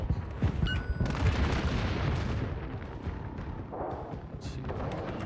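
Naval guns fire a volley in a sea-battle video game, a dense rumbling burst of booming shots that dominates at first, then settles into rolling, continuous battle noise with a few sharp cracks late on.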